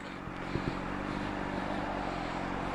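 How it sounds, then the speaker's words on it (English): A 2011 Honda CBR600RR motorcycle rides through traffic, giving a continuous low engine drone mixed with road and wind noise, with a couple of brief knocks early on. "Try to get through this traffic."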